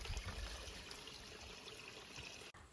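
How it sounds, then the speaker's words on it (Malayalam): Cold water runs from a pipe laid from the rock at a small waterfall, a steady rushing trickle and splash that stays constant and close before cutting off abruptly. "നമ്മുടെ പാറയിൽ നിന്ന് തന്നെ പൈപ്പ് ഇട്ടിട്ട് വെള്ളം എടുക്കാവുന്ന ആവശ്യത്തിന് വേണ്ടിട്ട് ഇട്ടിട്ടുണ്ട്"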